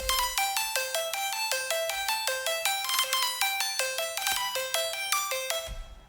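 Bright, buzzy square-wave synth notes in a quick bouncing arpeggio, like an old video game tune, plucky and rhythmic, played alone at moderate volume.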